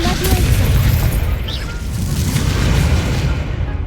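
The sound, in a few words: Confringo explosive spell blast in the video game Hogwarts Legacy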